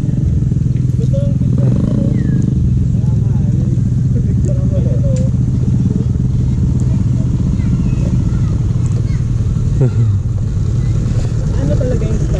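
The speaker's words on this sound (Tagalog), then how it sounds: "Ako lang naka-scooter guys" A scooter rumbles and jolts along a rough, slippery dirt trail during an off-road ride before a river crossing, its low engine drone steady and loud throughout, with riders talking over it.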